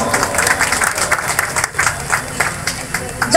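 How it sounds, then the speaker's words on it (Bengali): An audience at a political committee meeting claps to welcome a guest, a dense, fairly close burst of applause running the whole length amid crowd murmur. "আপনারা ওনাকে করতালি দিয়ে সম্বোধন করবেন"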